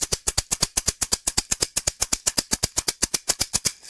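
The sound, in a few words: Shonga tunable shaker being played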